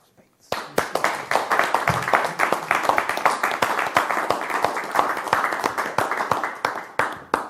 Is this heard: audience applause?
yes